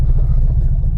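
A supercharged remastered classic Mini Cooper by JET Motors roars past at speed, a loud, close, steady low engine rumble with no voices.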